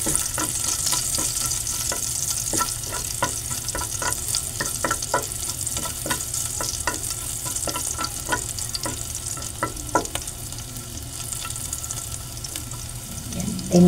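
Garlic sautés in oil left over from frying salmon steak, a soft continuous sizzle punctuated by repeated sharp stirring clicks and scrapes of a utensil against the pan, close and steady throughout.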